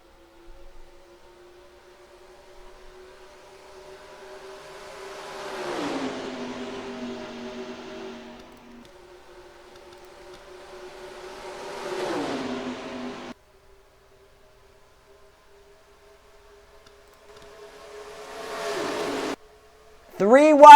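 Race cars in the NASCAR Racing 2003 game at Pocono Raceway rise in engine pitch as they pass, in three sweeps separated by quieter gaps, with a brief sharp burst at the very end.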